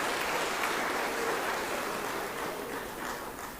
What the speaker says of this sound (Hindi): ताली बजा के विनोद जी का स्वागत कीजिए